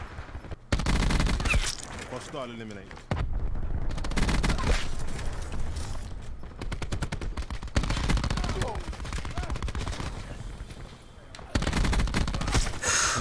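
Rapid gunfire from an SOG shotgun in the shooter game Black Ops 4, loud repeated blasts in clusters with brief gaps, mixed with game sounds and a voice talking over it.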